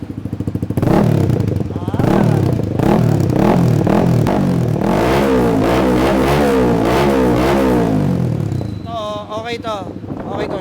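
A Honda Winner X motorcycle with a short Villain exhaust revs repeatedly in throaty bursts, close and loud, rising and falling, with a higher whine near the end.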